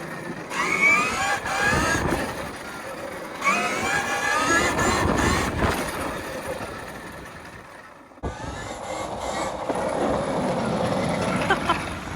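Electric KTM Freeride trike ridden hard in its fastest mode, with continuous drivetrain whine and wind noise, a steady loud roar that briefly cuts out before resuming.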